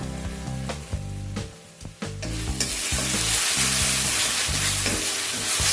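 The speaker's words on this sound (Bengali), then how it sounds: "আদা রসুনটাকে কিছুক্ষণ সময় নিয়ে একটু ভেজে নেব।" Ginger garlic paste fries in a pan over browned onions for Lahori mutton korma. Rhythmic spatula scrapes and taps come first, then a loud, steady sizzle takes over, with no voices.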